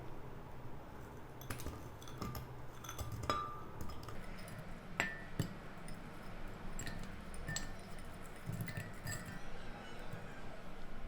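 Frozen peach pieces dropping into a blender jug, giving a few sharp, scattered clinks and taps over a low, steady background hum, with no talking.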